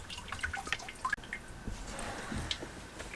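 Water drips and trickles onto pepper plants in short, irregular drops, close and fairly quiet, with a few soft splashes.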